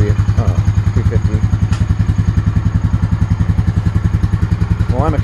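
A 2001 Honda Rancher ATV engine idling close by with a steady, loud, rhythmic single-cylinder thumping, while someone speaks briefly over it at the start and end.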